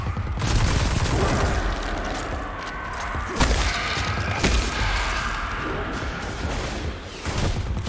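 Heavy, continuous gunfire and explosions from a Destiny 2: The Witch Queen firefight, loud and dense with a few sharper impact cracks punching through the steady din.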